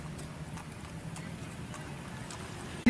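Horse hooves clip-clop at a riding festival in Balikpapan, a faint, quick run of soft taps over a steady low crowd rumble, with no voices.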